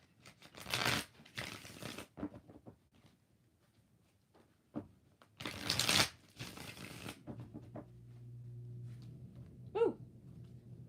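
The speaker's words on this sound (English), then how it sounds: "We're going to do 5 shuffles." Tarot cards being shuffled by hand close up, heard as two separate brisk riffling bursts with quiet gaps between, followed by a soft low hum.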